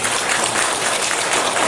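A church congregation at a Sunday morning service applauds to welcome newcomers, a thick, even wash of clapping from many people held steady from start to finish.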